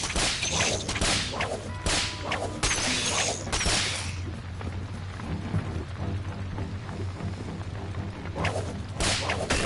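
Whip swung repeatedly in the VR game Rec Room, sharp swishing cracks in quick bursts over a steady low background hum, with a quieter stretch in the middle before more swings.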